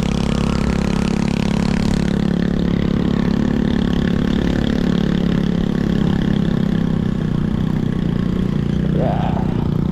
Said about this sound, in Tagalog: Buti na lang malakas yung motor ni Uncle Dan.